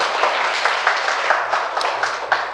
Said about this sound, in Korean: 그럼 박수 한번 치세요.